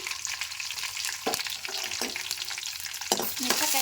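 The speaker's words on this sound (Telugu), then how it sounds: "నూనె వేడెక్కినాక జీలకర్ర, ఆవాలు, మిరపకాయలు" Cumin, mustard seeds and chillies crackle and sizzle in hot oil, close and steady, with a few scraping stirs and spatters breaking through the hiss; no one speaks.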